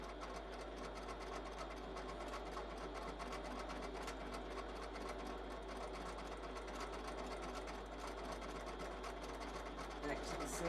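A Pfaff Grand Quilter sewing machine stitches along a quilting template with a ruler foot, giving a steady, even mechanical whirr that runs without a break, while a voice talks over it.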